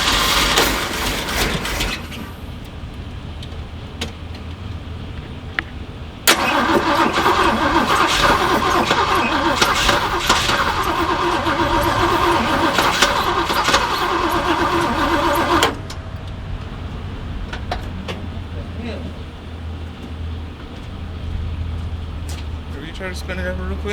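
A 1978 Jeep engine cranks over repeatedly without catching, a loud sustained starter churn that surges in the middle stretch before easing back, with people talking nearby.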